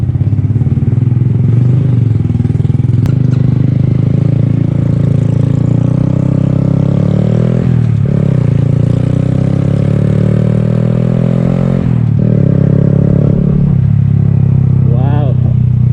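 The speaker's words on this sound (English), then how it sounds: "I love the exhaust, that's for sure. I love the sound it makes." Honda Grom motorcycle with a new aftermarket Amazon exhaust, running loud and close with a steady, heavy engine drone, briefly dipping twice as the throttle is blipped, the exhaust note dominating throughout.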